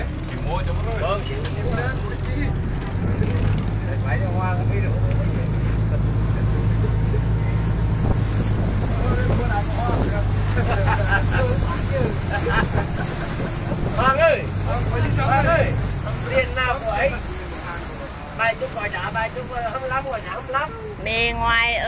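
A boat engine drones steadily at the Cai Rang floating market in Can Tho, a low continuous hum running beneath voices talking, wind buffeting and splashing water until it fades near the end.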